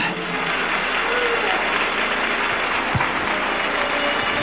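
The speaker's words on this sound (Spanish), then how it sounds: "Dele un aplauso al Rey con todo su corazón." Congregation applauding in a church during a sermon, a steady wash of clapping that fills the space at moderate loudness, with no talk over it.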